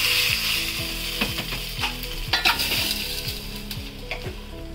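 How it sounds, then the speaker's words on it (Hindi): Curry leaves, chillies and mustard seeds crackle and sizzle loudly in hot oil, with a steady frying hiss and repeated scraping clinks of a spoon stirring the pan; no one speaks. "ये जो हम तड़का लगाते हैं कड़ी पत्ता, मिर्च, राई, सरसों ही बोलते हैं इसको"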